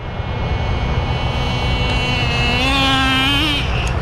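A Thunder Tiger F-1 nitro RC car's laydown engine with dual exhaust whines steadily and loud, close by, its pitch rising and wavering toward the end like a revving motor.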